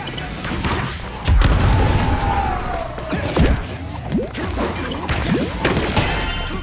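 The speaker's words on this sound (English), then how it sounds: "Death roll bomb." A bomb ball explodes in a Knockout City league match, a heavy boom hitting abruptly and booming loudly over busy game effects, with further thuds and whooshes following amid excited talk.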